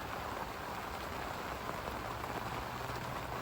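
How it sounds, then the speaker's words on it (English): Steady rain falling outdoors at a carp fishing lake under gloomy, windless skies, a constant even hiss of drops pattering on surfaces throughout with no talk. "No wind, just a lot of rain above us now by the looks of it."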